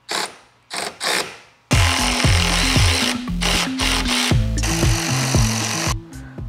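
A power tool drives and tightens bolts at the top of a strut bracket while lowering springs go into a Mercedes E63 W212: short revving bursts, then a long, loud, continuous whirring run with repeated impact-like pulses.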